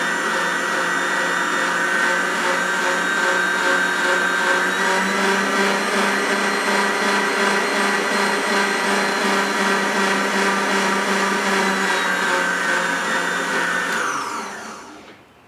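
An electric whisk runs steadily through crêpe batter in a bowl, a loud continuous motor whine that holds for about fourteen seconds before winding down and stopping.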